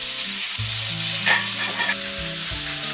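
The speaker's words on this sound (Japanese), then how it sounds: "熱したフライパンにひき肉を投入。" Ground meat dropped into a hot frying pan sizzles loudly and steadily up close, with a stirring scrape partway through, while a soft music bed plays beneath.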